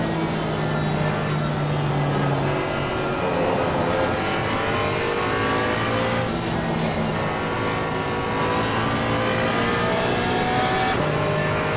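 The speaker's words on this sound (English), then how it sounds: "That V12, you can hear that coming a mile off." A V12 race car engine in Assetto Corsa Competizione during a multi-class race roars loudly and continuously, its pitch climbing and falling through the gears as it accelerates and brakes.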